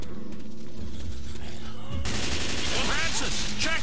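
Bursts of video game gunfire in Left 4 Dead 2 erupt after a quieter opening, rapid overlapping shots with sharp ricochet-like whines, loud and crowded in the second half.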